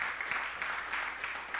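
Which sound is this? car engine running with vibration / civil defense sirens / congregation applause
congregation applause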